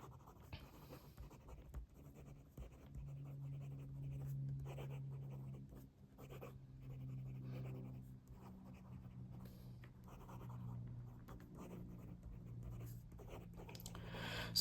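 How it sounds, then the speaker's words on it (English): A Montblanc Bram Stoker Writers Edition fountain pen writes on paper, a soft, continuous scratchy glide of the nib running steadily and close throughout, with a faint low hum in the background. "So it writes really smoothly."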